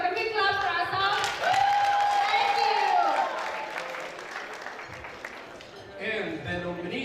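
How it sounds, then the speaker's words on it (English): Applause from an award show audience in Minnesota mixed with crowd noise and voices, continuous and moderately loud, fading slightly toward the end. "Can we clap for ourselves?"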